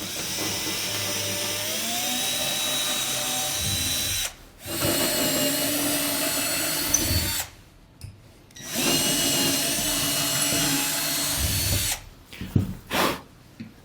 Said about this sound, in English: take a 15/64 inch drill bit and drill our 4 holes